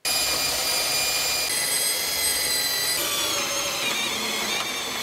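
Power drill boring holes in recycled pallet wood, a steady high-pitched whine running loud and unbroken for several seconds without talk.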